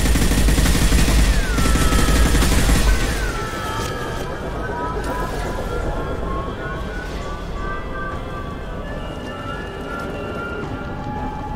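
Rapid video game gunfire from Mass Effect 2 Legendary Edition on PS4 as injection tubes are shot, a dense loud crackle of shots that eases into a steady rattling background, with voices faintly mixed in.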